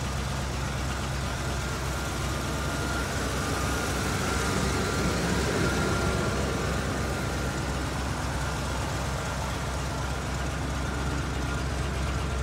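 A Ford 3/4-ton 4x4 pickup truck engine idles steadily with its check engine light on, a low, even rumble that holds constant from start to finish, with no voices.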